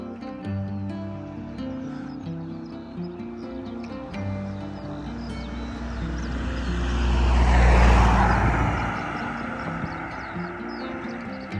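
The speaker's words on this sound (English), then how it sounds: "2 cars came in opposite directions and some bikes all at the same time" Vehicle noise on a quiet country lane early on a Sunday morning, swelling to a broad rushing peak as cars pass in opposite directions and then fading, with a faint tonal hum throughout.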